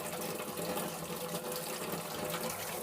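A steady stream of tap water splashes over a part taken from an LG front-load washing machine, a quiet, even rushing wash heard close up without any speech.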